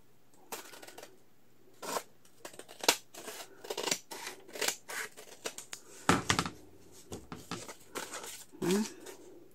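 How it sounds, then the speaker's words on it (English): Scissors snip paper for a handmade Victorian-style journal, producing a series of close, crisp cuts and rustles in uneven bursts, with small handling noises between them and no speech. "I feel like I would need to cut that off too."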